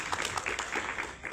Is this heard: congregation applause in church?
yes